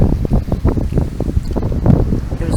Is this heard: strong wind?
yes